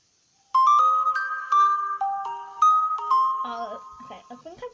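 A phone text message notification plays as a clear melodic chime sequence of several bright tones, layered and ringing out over a few seconds, fairly loud and close, with a faint trailing jumble at the end.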